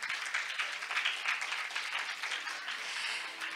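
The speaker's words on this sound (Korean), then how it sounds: "뜨거운 박수 부탁드리겠습니다" Warm audience applause at the end of a session at a global maritime women's conference, fairly faint and steady with dense overlapping claps that taper off toward the end.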